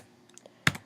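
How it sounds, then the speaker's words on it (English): A few quiet key taps on a Mac computer keyboard, ending in one sharper, louder keystroke near the end of a brief, close-up moment. "we're going to type in this address"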